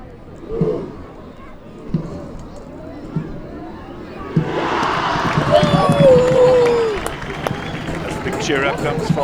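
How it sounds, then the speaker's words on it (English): Schoolboys in the stand at a Grey High School rugby match break into loud, rising cheering and shouting, following a few scattered calls and thuds beforehand. "Cheer up comes from the Grey boys on the stand."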